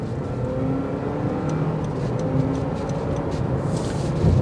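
A 2024 Honda CR-V Sport Hybrid accelerating on a test drive, a steady engine and road roar heard from the cabin, building slightly toward the end with no talk.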